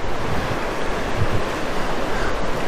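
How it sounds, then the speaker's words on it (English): Water surges steadily out of a coastal cave beneath a clifftop engine house, a loud, continuous broadband rush like surf, with wind buffeting the microphone and no talk. "So a lot of water coming out of this one."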